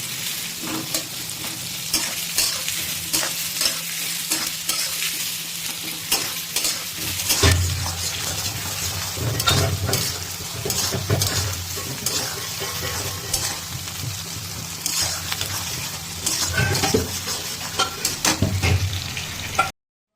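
Sliced onions fry in oil in a pan over a high gas flame, browning lightly. A steady, bright sizzle runs throughout, broken by frequent scraping stirs and clinks of a spatula against the pan.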